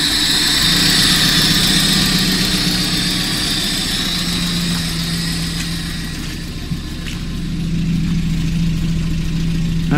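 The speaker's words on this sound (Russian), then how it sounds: "Ну, мотор мягенько работает" An old GAZelle van engine idles steadily just after starting, a loud, continuous low rumble with an even mechanical drone that stays close and unbroken throughout, with no talking over it.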